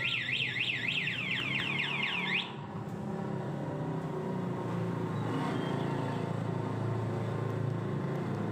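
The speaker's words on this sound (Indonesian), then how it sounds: "ketika diaktifkan alarmnya kita pijit tombol paling atas ada getaran pun akan berbunyi" A wailing electronic motorcycle alarm siren on a Honda Beat FI, with fast rising-falling tones, sounds for a couple of seconds, then cuts off, leaving steady low mechanical rumble.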